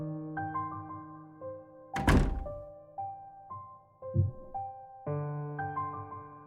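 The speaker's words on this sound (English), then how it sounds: "I bang my head several times on the wall outside." A head banged several times against a wall in a visual novel game, heard as two heavy dull thuds that stand out over gentle piano music.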